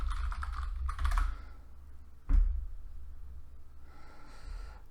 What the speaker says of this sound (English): I enter the password.